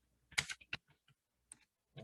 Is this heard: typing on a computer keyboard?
yes